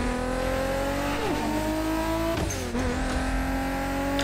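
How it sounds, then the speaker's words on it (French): A Toyota Supra MK4 engine in the video game The Crew Motorfest drones loudly and continuously, revving up and shifting with a sudden drop partway through, with faint hissy turbo bursts. "On entend un petit peu les décharges de turbo de temps en temps."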